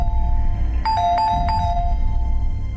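Doorbell chiming indoors, a clear melodic ding-dong run of several bright tones over low background rumble, lasting about a second.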